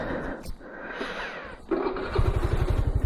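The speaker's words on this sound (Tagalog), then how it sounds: "Painitin natin ang scooter saglit." A scooter engine warming up close by, revving with a rough, pulsing drone that steadies into a rapid idle putter, with faint voices in the background.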